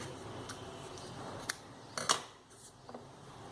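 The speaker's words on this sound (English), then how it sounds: "first cut a long piece from the brown floral tape" Scissors cutting brown floral tape, a few quiet close snips at intervals, with a sharper double snip near the middle, in an otherwise quiet room.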